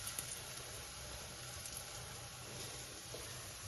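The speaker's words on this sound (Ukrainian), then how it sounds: "Другу партію хай смажиться." A steady, quiet sizzle of banana pancakes frying in hot oil, a continuous crackling hiss with no talking.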